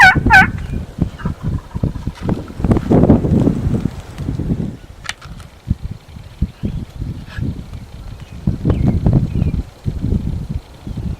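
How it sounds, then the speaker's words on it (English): Several wild turkey toms gobble repeatedly during a youth spring turkey hunt, loud bursts from nearby birds with rustling leaves and light wind between calls. "The toms are really gobbling."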